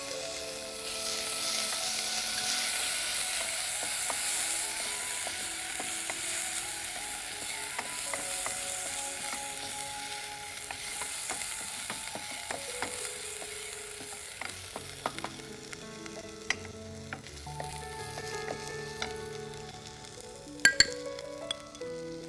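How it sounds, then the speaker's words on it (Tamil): Cumin seeds and ginger paste frying in hot oil, a continuous hissing sizzle under scattered clicks and scrapes of stirring, with a couple of sharp metallic knocks near the end, heard close with no voices. "இப்போ எண்ணெய் சூடான பிறகு நம்ம சீரகம் சேர்க்கிறோம். இந்த இஞ்சி விழுது சேர்க்கிறோம்."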